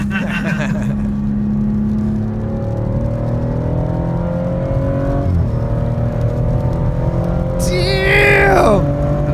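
Nearby car engine revs with a steady rising drone, pitch climbing and settling, then a sharp high whine near the end.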